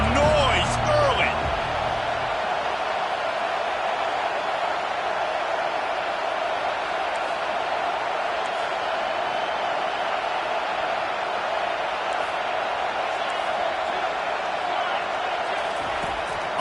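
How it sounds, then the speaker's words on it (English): Football stadium crowd roaring as a steady, dense wall of noise, with a commentator talking over it throughout. "This crowd bringing the energy and noise early."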